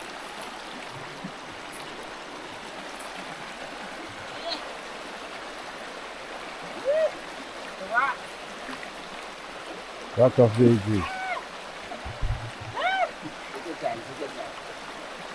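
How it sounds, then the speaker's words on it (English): A river runs over rocks in Jamaica, giving a steady broadband rush of flowing water throughout, with people talking and brief louder voices breaking in over it. "The rocks and the water's moving"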